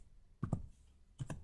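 Two quick pairs of keyboard key presses, close and crisp, separated by a short quiet pause, with no voices.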